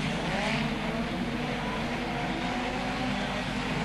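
Hot rod race cars racing at Wimbledon Stadium in 1978 make a continuous, fairly distant roar of several engines lapping the oval, droning steadily without a break.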